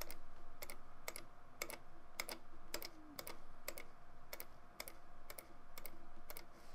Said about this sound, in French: je vais simplement venir cliquer dans chacune des cases que je veux voir coloriées en rouge